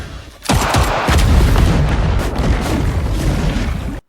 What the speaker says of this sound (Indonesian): James yang melihat ledakan itu pun langsung menyelam untuk menyelamatkan John.